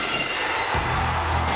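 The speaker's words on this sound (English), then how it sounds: "all of the ECW guys are in the ring about to celebrate, and the glass shatters" Glass-shattering sound effect from Steve Austin's wrestling entrance, a broad crashing burst that gives way at once to a loud, droning roar, continuous and close throughout.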